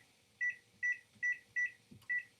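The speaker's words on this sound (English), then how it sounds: "I'm going to set my timer." A kitchen timer set while cooking on a stovetop gives five short, evenly spaced electronic beeps, fairly quiet, with a faint clatter between them and no talking.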